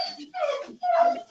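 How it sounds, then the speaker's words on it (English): An upset dog whimpers close by in short, high, whining cries with brief breaks between them. "Somebody done upset a dog."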